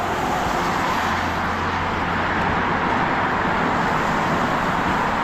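Loud road traffic along a roadside walking route, a steady dense roar of passing cars and buses close by with no break, and nobody talking.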